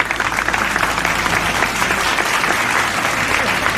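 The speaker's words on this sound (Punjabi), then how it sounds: "ਤਾਲੀਆਂ ਜ਼ਰਾ ਮਾਰਿਓ।" An audience claps for Junaid in a steady, loud burst of applause lasting several seconds, with dense overlapping hand claps and no pause.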